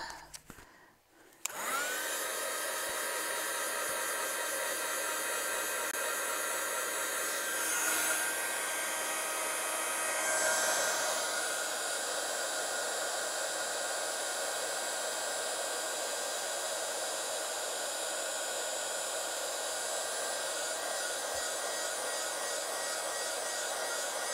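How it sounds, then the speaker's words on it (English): An embossing heat tool blows hot air in a steady, loud whirring drone for a card-making project, starting abruptly after a brief click and running continuously with slight swells in tone. "Heat tool."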